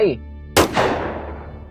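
A single loud gunshot fired at a wild buffalo in a Thai forest story, a sharp close blast with a long decaying echo, following a brief bit of narration.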